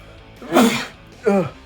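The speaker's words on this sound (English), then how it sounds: "I'm gonna sneeze." A sneeze bursts out close by, a sharp sudden burst followed shortly by a second, smaller sneeze-like exhale.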